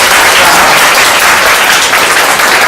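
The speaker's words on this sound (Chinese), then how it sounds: "热烈鼓掌" Warm, dense applause from an audience welcoming three speakers at an advertising creative awards sharing session, loud and sustained throughout with no voices.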